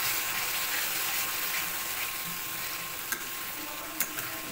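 Masala sizzling and frying in a pan for Odia-style fish curry, a steady close hiss throughout with a few faint clinks of a stirring spoon.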